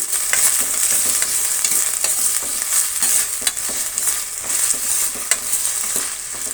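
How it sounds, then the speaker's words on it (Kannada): Mixed vegetables frying in oil for tamarind rice crackle and sizzle close up with a constant hiss, broken by frequent irregular stirring clicks and scrapes, no voices. "ತರಕಾರಿನ ಸೇರಿಸ್ತಾ ಇದ್ದೀನಿ ಆಯಿಲ್ ಮಾತ್ರ ಎಂಟು ಸ್ಪೂನ್ ಹಾಕಿದ್ದೀನಿ ತರಕಾರಿ ಸ್ವಲ್ಪ ಚೆನ್ನಾಗಿ ಬೇಯಬೇಕಾಗುತ್ತೆ"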